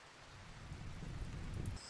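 Steady rain falls in the RimWorld colony game, a dense, even hiss with a low rumbling undertone for about two seconds, with no voices.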